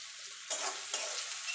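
Onions frying in a pan with a little salt, a soft sizzle with two sharp stirring bursts that swell and settle, close and without talk.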